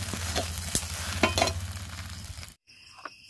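Bread slices sizzle in a pan while being stirred and turned, with scraping strokes over a steady fry that stops abruptly near the end.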